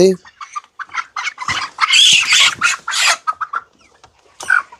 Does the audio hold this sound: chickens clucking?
yes